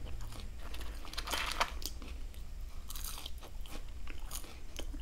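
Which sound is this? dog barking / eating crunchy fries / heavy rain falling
eating crunchy fries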